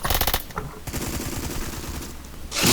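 A loud NTW-20 anti-materiel rifle fires in Phantom Forces, heavy booming shots with mechanical clatter between them and a final loud blast at the end.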